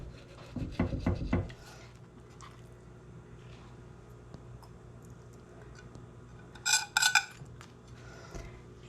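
A knife scraping and sawing through a homemade smoked sausage and onion pizza on a pan, a short gritty burst of cutting early, quiet stretches, then a second brief scraping cut near the end.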